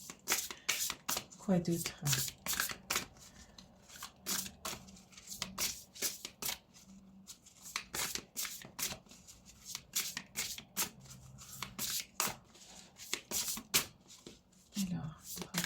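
Oracle cards are shuffled by hand in quick, crisp riffling bursts that repeat throughout, with someone speaking softly in between and over them.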